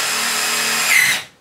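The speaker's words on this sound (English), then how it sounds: "it's better to have a really fast drill gun instead of a slow torque battery operated drill gun" A fast power drill drives a screw into a plastic-faced insulation panel on a wood-framed wall: a steady, close, high-pitched whine of about a second that rises briefly and then spins down.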